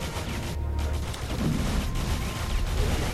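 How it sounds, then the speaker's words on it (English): A gun turret fires in the tower defense video game Defense Grid 2, rapid bursts of gunfire forming a dense, steady clatter over background game sounds. "We're going to throw down a gun turret there."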